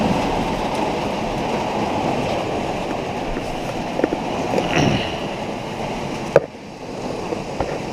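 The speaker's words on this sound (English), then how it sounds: "it is really coming down." Heavy storm rain pours onto the roof of a Ford Transit camper van, a dense continuous roar with faint thumps, briefly cut by a sharp knock before the downpour settles again.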